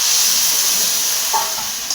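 Steady loud hiss of water poured into a hot pan of sautéed vegetables, a continuous steamy sizzle lasting a couple of seconds with a slight dip near the end.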